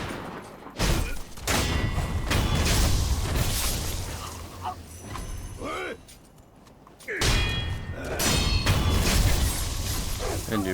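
Deflected gunfire in the video game Sekiro: loud repeated bursts and sharp metallic impacts with heavy thuds, broken by a brief quieter stretch, then more clashing hits over game background sound.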